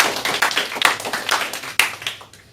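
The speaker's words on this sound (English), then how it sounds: "give yourselves all a big round of applause" A room of club members at a Toastmasters meeting breaks into a round of applause, dense overlapping hand claps with a few sharp louder slaps standing out before the clapping thins and fades.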